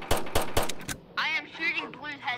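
Gunshots in a Rainbow Friends shooting game: four or five sharp, close bursts in quick succession, then the shooting stops and a voice talks.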